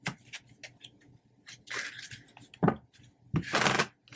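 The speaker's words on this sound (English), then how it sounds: "I think I'll have to do a couple more shuffles for you" Tarot cards shuffled in a few short, close rustling bursts and taps with brief pauses between, fairly soft and with no talking.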